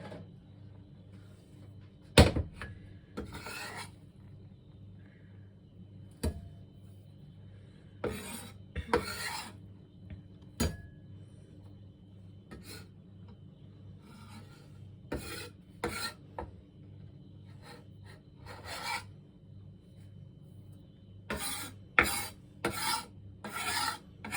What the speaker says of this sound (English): I will try to scrape every last bit of the herbs